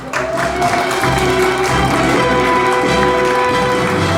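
An audience at a fan cafe launch event in Korea applauds a performer brought to the stage, with steady clapping over background music and hall noise.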